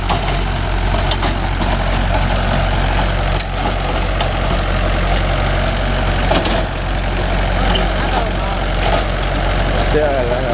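A Mahindra 575 DI Bhoomiputra diesel tractor engine runs at a steady idle, a loud and close low rumble that holds constant throughout, with someone talking over it.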